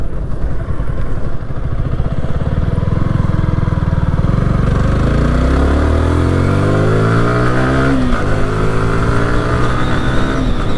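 A Yamaha R15 V3 sport motorcycle engine runs close and loud through a U-turn, holding a steady throaty idle before revving with rising and falling pitch sweeps.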